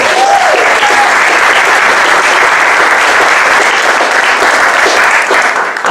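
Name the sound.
audience applause at a town hall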